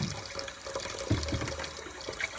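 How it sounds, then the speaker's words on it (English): Cold tap water rushes steadily into a bowl set in a kitchen sink, a continuous splashing stream, close and fairly loud, with no talking. "I'm going to fill it with some cold water"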